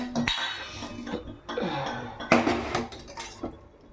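A cooking pot being set down and handled in a home kitchen before frying potatoes, with clanking metal knocks and scraping clinks in short separate bursts, close and fairly loud, no talking.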